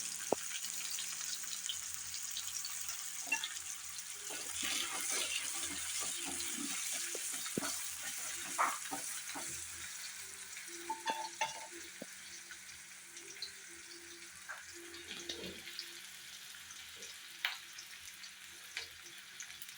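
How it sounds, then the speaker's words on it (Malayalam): Sliced onions frying in leftover oil for biryani, a low, faint sizzle with scattered crackles and clinks of utensils. "ബാക്കിയുള്ള എണ്ണയിലേക്ക് നമ്മൾ കുറച്ചുകൂടെ സവാള ഇട്ട് കൊടുക്കുകയാണ്"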